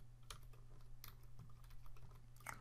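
Quiet clicks of someone typing on a computer keyboard, a handful of keystrokes in small irregular bursts, close and soft with no talking.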